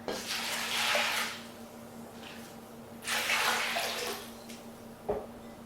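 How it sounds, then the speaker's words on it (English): Seven cups of water poured into a slow cooker holding beans, garlic, jalapeño and green chilies, heard as two separate splashing pours, each lasting over a second, with quiet pauses between. "I am going to add 7 cups of water."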